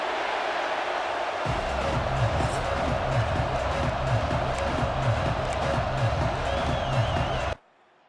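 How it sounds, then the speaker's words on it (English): Stadium crowd in the EA Sports College Football 26 video game, a loud sustained roar with rhythmic low chanting and thumping that swells in after a quiet start, then cuts off abruptly near the end. "this crowd is fired up"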